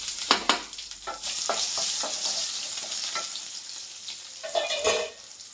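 Curry leaves, dried red chillies and crushed garlic crackling in hot oil for a sambar, loud close sizzling with sharp spattering bursts and stirring scrapes throughout, no voices.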